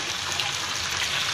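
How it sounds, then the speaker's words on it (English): Water poured into a cooking pan holding sautéed string beans and squash, making a continuous rushing splash that stays loud and even throughout. "lagyan lang po natin ng 3 cups of water lang po ito"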